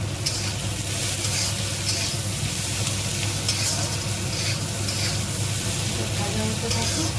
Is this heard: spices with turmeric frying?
yes